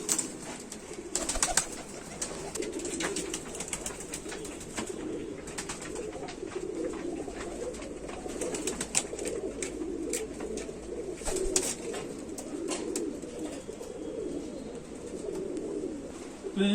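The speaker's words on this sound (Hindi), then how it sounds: "तो काफी कबूतर काफी तादाद में है मेरे पास कबूतर पड़े हुए।" Pigeons, a breeding pair kept by a fancier, coo steadily in soft, throaty murmurs, several birds overlapping close by, with occasional scratchy rustles and flutters among them.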